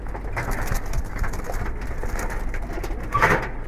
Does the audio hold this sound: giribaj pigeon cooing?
yes